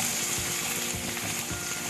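Onion and ginger garlic paste frying in oil for paneer jalfrezi, a steady dense sizzle with soft crackling pops, close and fairly loud, with no talking.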